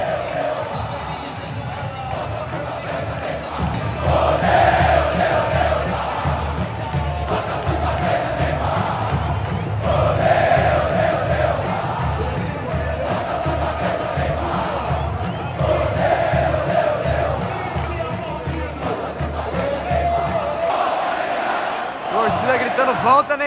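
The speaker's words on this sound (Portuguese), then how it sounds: "torcida agora cantando a música pra ele aqui" Football fans at a Santos vs Corinthians match sing a chant for Neymar, a big stadium crowd roaring and singing in rhythmic swells that rise and fall, sustained and fairly loud before fading near the end.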